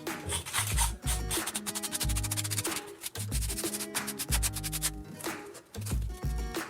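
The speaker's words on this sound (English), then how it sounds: "I'm going to rub my photo frame" Sandpaper scrubbing over a painted wooden photo frame to distress the finish, in repeated close strokes with a few brief breaks.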